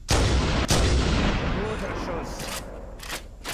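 A sniper rifle in the video game Halo fires a loud, booming shot with a long echoing tail, followed by fainter sharp in-game cracks and impacts.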